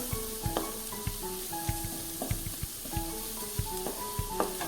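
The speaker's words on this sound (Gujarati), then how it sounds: "મસાલાને આપણે શાકભાજીમાં સારી રીતે સંતળાવા દઈશું." Masala and chopped vegetables for green pav bhaji sautéing in oil, a continuous close sizzle broken by regular sharp knocks of a spoon or spatula stirring against the pan.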